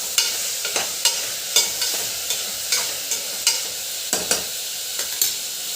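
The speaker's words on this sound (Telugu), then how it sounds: "అవి ఫ్రై అవుతున్నాయండి." Coriander, mint and rajma (kidney beans) frying in a pan and stirred, with a steady sizzle and regular scraping strokes about every half second, close and moderately loud with no talking.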